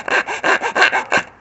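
A hacksaw blade snapped in half cuts into wood for carving, giving about six quick, rhythmic rasping strokes, close and fairly loud, with no one talking.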